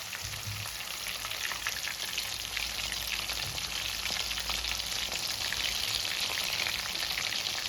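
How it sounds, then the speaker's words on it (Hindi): Chicken lollipops deep frying in hot oil, a steady dense crackling sizzle that holds evenly throughout, close and fairly loud with no voices. "4 से 5 मिनट हो गई है चिकन लॉलीपॉप फ्राई होने में।"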